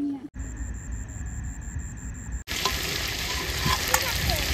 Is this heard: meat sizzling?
yes